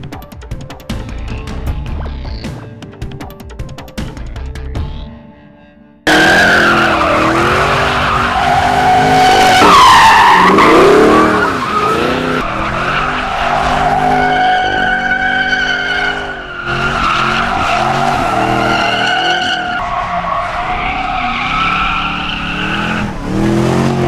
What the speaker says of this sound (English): So now we make our own fun on the way home, right? Burnouts and donuts.